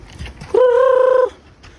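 A chicken gives one loud, drawn-out call up close, sustained for under a second against a quiet background.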